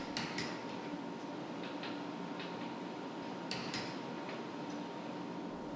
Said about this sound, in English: I have to insert the tools in the individual tool holders after cleaning each tool holder